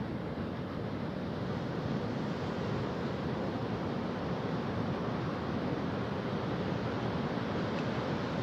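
Ocean surf pounds Nuevo Vallarta beach during Hurricane Willa, a continuous loud roar of breaking waves mixed with heavy wind buffeting the microphone, with no voices.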